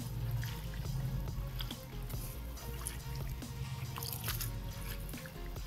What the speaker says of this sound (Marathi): आणि पाण्यानं स्वच्छ चांगली धुवून घ्यायची